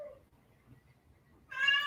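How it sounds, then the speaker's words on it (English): A house cat meows outside a closed door, one short, bright, harmonic call arriving near the end after a quiet stretch, moderately loud and alone with no talk. "Probably hear one of my cats outside my door."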